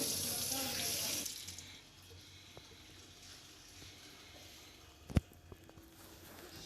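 A brief burst of water from a newly fitted tap splashes into a sink, then fades to a quiet room with a few small clicks and one sharp knock.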